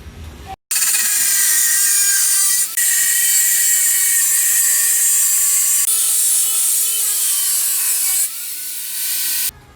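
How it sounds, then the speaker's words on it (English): An angle grinder cuts steel bars for a Damascus billet, a loud continuous high-pitched whine that starts abruptly, dips briefly a few times as the cut changes, and cuts off at the end. "I'm going to use the angle grinder. Try to cut as straight as I can."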